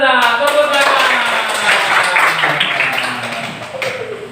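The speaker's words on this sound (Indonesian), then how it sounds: "Benar, tepuk tangan." Schoolchildren in a classroom clap their hands together after a correct answer, a loud, close burst of quick claps mixed with children's voices and a teacher speaking.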